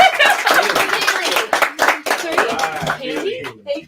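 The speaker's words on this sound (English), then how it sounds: "So big round of applause." A crowd at an auction claps and applauds together, with scattered chuckles and voices mixed in, before the clapping fades out.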